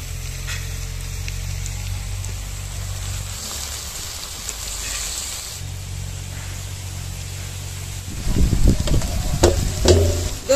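Mutton dropped into hot oil with onions in a village kitchen pan, frying steadily with a loud burst of sizzling and scraping stirs in the last few seconds, no voices.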